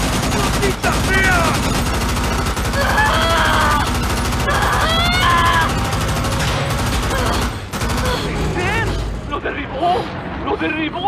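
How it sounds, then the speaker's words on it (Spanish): Gunfire rattles at an aircraft in a film scene, dense bursts of rapid shots and booms over constant loud engine noise, with shouting voices mixed in throughout. "¡Nos están disparando!"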